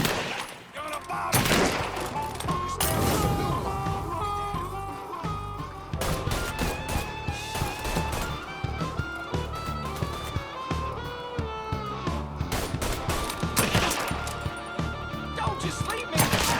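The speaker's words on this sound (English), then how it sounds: "He's gunning us down!" Gunfire in the crime action game Mafia 3, with sharp repeated shots and rapid bursts crackling throughout a loud firefight layered over music.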